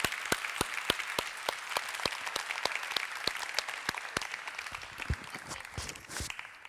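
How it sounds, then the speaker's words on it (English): Audience applause following a keynote by Dame Stephanie Shirley at a Luxembourg conference: distinct, fairly sparse claps from a modest crowd, rhythmic and moderately distant, tapering slightly toward the end. "Let us give her an applause"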